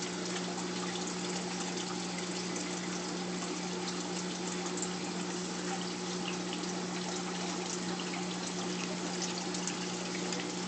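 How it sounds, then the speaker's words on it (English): Turkey baster squirting water to blow sediment off rocks in a home aquarium, a soft continuous gurgling trickle over a steady pump hum, faint and close. "I'm just using the turkey baster to blow all the sediment off of the rocks."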